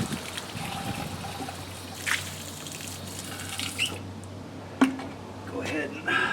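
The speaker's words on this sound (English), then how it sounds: "And then rinse out the reactor a little bit." Water trickling and dripping while an aquarium reactor is rinsed out, faint and close with small splashes and a few sharp clicks and clinks, a voice talking partway through.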